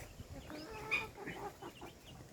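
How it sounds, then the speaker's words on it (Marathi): Farm chickens feed on damp, scattered feed, giving soft clucks and rustling pecks at a moderate distance. The sound is quiet and broken, with no clear talk over it. "तिकडे चालू आहे कोंबड्याचं खायचं."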